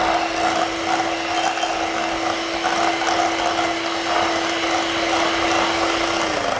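Electric mixer beating cookie cake dough, a loud continuous whirring drone with a steady motor tone that holds for the whole stretch and dips slightly in pitch at the very end.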